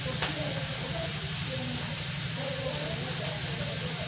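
Onions frying in a pan give a steady, dense sizzle and hiss, loud and unbroken throughout, with a faint low hum underneath.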